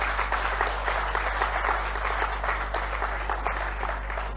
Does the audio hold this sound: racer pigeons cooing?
no